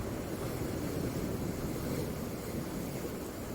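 Sea waves wash in and out along the shore, a steady broadband rush of surf with wind, even in loudness throughout and no voices.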